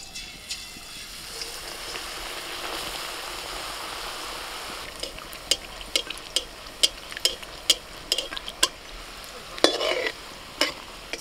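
Battered vegetarian chicken-leg pieces fry gently in white oil at low heat, a steady soft sizzle that gives way to a string of sharp crackles and pops in the second half, close and fairly quiet, with no one speaking.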